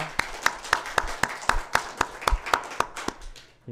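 A Sunday church congregation clapping in thanks, a run of about fourteen sharp, evenly spaced claps in a steady rhythm, close and clear, ending abruptly.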